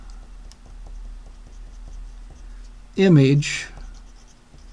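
Pen scratches out a hand-drawn diagram in short, regular ticking strokes, faint and close, with a brief spoken word cutting in near the end.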